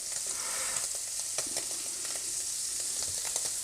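Scallops searing in a hot pan with a knob of butter, a bright, close, steady sizzle with a few sharp crackles and spits, no voices.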